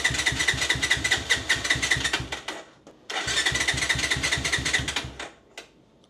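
A cold Bajaj Rouser 180 motorcycle engine cranks repeatedly with rapid starter chugging, stopping briefly after a few seconds and then cranking again without catching, loud and close.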